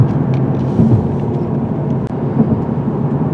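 A 2021 Lexus RC350 AWD drives a curving forest road, with a steady, loud rumble of engine and road noise throughout.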